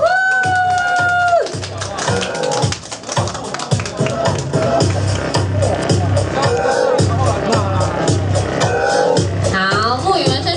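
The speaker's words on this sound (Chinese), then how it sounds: "掌声鼓励一下。" Audience at a lingerie product launch event applauds as a spokesperson takes the stage, a dense steady clapping under loud music with a rhythmic beat and a cheering crowd, sustained throughout.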